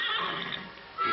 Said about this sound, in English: and the wild horses.